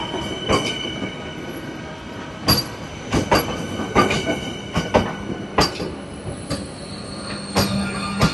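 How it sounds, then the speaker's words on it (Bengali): An AC local train pulls into the platform at a station on the Bangaon–Sealdah line, with repeated loud wheel clacks over the rail joints, a high squeal and a steady rolling rumble, heard close and with no talk. "আর তার পিছনেই আরো একটা এসি এমনি লোকাল ট্রেন, সেটা কিন্তু ওই সামনের প্ল্যাটফর্মের আর একটা ঢুকছে।"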